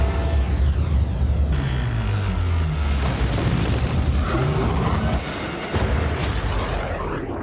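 Movie explosions from a Fast and Furious film roll together in a dense, loud wall of booming rumble with sharp blasts and crackling debris, continuing without a break and easing slightly toward the end.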